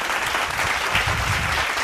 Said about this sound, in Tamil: கைத்தட்டு ஒருத்தவருக்கு